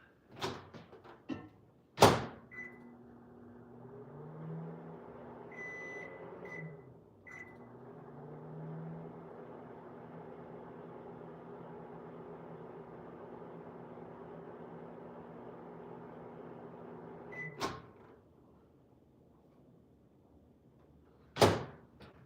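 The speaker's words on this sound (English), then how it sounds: "I might have to microwave this for a second." A microwave oven heats mac and cheese, its steady low hum running for about fifteen seconds, framed by the thunks of the door opening and shutting and a closing beep.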